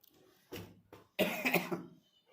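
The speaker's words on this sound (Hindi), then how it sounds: "खांसी होने लगी है" A woman coughs several times, close and fairly quiet: a couple of short coughs followed by a harsher burst of coughing and throat clearing.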